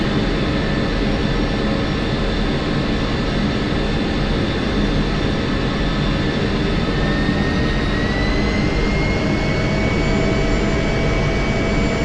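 An F-16C jet engine in the DCS flight simulator spools up with a loud, steady roar and a high whine that slowly climbs in pitch over about twelve seconds.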